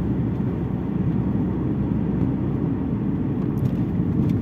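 Heavy, steady low-pitched engine rumble of an Alfa Romeo 166 heard from inside while driving, loud and unbroken throughout with no one talking.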